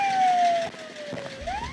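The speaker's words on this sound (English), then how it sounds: "Shut your siren off." A police siren wails up and down in pitch, loud and close, its tone sliding lower then rising again amid background road noise.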